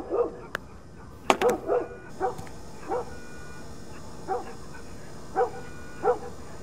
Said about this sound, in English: The dog suddenly whimpered and stopped.